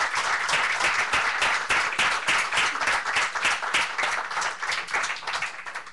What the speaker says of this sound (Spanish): Denle un aplauso al Señor, démosle un aplauso a Él.